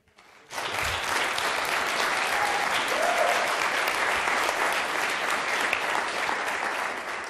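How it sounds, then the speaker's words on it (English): An audience bursts into loud, sustained applause at a public address, with clapping starting abruptly and holding steady throughout. "You're going to stop clapping"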